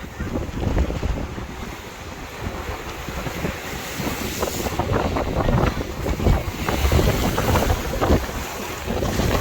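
Strong wind buffets the microphone at sea while waves surge and break around a boat, forming a loud, continuous roar with rushing swells and no talking.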